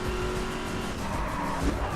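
Car braking hard in The Crew video game, engine roaring under a low rumbling tire skid that runs continuously for a couple of seconds.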